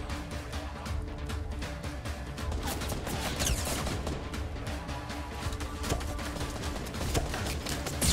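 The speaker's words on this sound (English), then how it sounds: "They had a grenade launcher." Fortnite battle with grenade launcher fire: a dense, continuous barrage of launched explosive rounds and crackling impacts, steady and moderately loud with no clear pauses.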